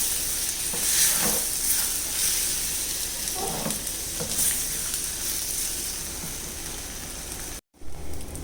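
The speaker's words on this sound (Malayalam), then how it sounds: "നമുക്ക് ഫ്രൈ ചെയ്ത ചെമ്മീൻ മസാലയിലേക്ക് ചേർത്ത് കൊടുക്കാം. നല്ലപോലെ ഇളക്കി മിക്സ് ചെയ്യാം." Fried prawns are stirred into a roast masala in a hot pan with a continuous loud sizzle, and several soft stirring scrapes recur through it, followed by a brief cut near the end.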